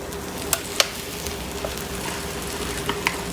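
Buttered slice of bread grilling on a pan, with a low steady sizzle running throughout and a few faint clicks and taps on top; no talking.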